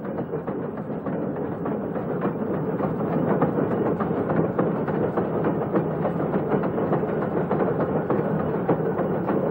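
An Indonesian rack steam locomotive on the Ambarawa line in 1974 rolls at a leisurely pace, giving a continuous, moderately distant mechanical roar with busy rhythmic clatter running evenly throughout.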